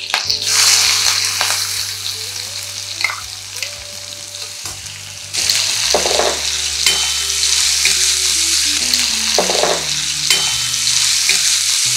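Onion frying loudly in a hot tempering of mustard seeds, cumin and asafoetida with curry leaves, a dense close crackling sizzle that surges louder partway through as it is stirred, with a low steady hum beneath.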